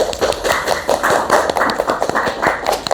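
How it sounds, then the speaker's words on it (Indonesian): A small group applauds during a student association candidate podcast, quick uneven hand claps close to the microphone, brief and lively with a few sharper individual claps standing out. "semuanya beri tepuk tangan"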